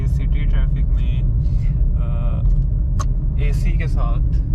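A Kia Picanto cabin is heard from inside while the car is driven through city traffic with the AC running. Steady low road and engine rumble fills the space under ongoing close talk.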